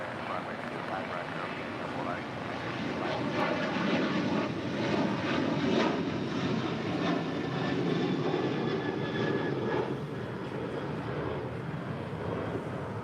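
Jet airliner engines roar steadily on LAX runways 25 left and right, a broad, loud, continuous wash of engine noise with faint radio-style talk underneath.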